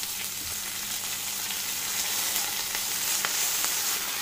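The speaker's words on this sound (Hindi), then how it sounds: "में जीरा ऐड करेंगे, कड़ी पत्ता डालेंगे।" Cumin seeds and curry leaves crackling in hot oil for sabudana khichdi, a steady close sizzle with small pops and spits throughout, no talking.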